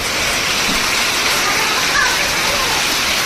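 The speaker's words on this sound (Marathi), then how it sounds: "आता गाईज परत सुरू झालेला आहे पाऊस गाऱ्याचा" Heavy rain and hail pour down in a dense, constant hiss, hailstones pelting a surface in an unseasonal hailstorm, with a voice faintly audible under it.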